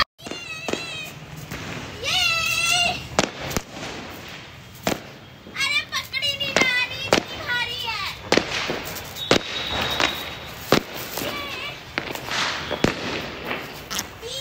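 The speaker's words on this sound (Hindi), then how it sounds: "बस अब थोड़ी देर में हम छत पे आ रहे हैं पटाखे चलाने के लिए" Diwali firecrackers on a rooftop: sharp, loud cracks and pops scattered irregularly through the scene, with whistling rising tones, while people and children talk and call out nearby.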